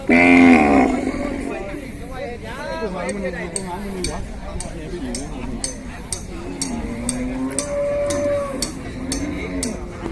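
Cattle low repeatedly at a livestock market in Sisaket, Thailand, on a cold day, with one loud close moo at the start and further calls mixed under steady talk and scattered metallic clinks.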